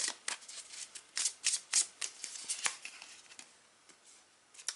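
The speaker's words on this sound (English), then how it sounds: "So I'm going to shuffle 2 oracle cards." Oracle cards being shuffled by hand, a quiet series of soft riffling bursts and papery flutters in an irregular rhythm, close and faint with no talking.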